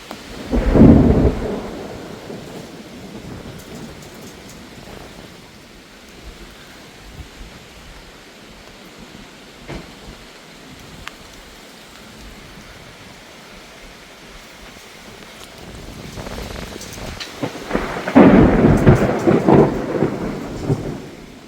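A Kalbaishakhi thunderstorm with rain: deep booming thunder rolls loudly at the start and again near the end, with a steady wash of rainfall hissing in between.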